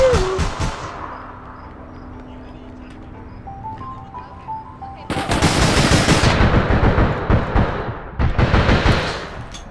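Gunshots in the online shooter APB Reloaded: quiet ambience gives way to a loud, sustained burst of rapid automatic fire, then a brief pause and a second burst, all close and punchy.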